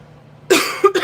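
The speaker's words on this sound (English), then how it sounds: "I'm sorry I'm coughing so much." One person coughs close up, a short harsh cough followed by a second smaller one after brief quiet.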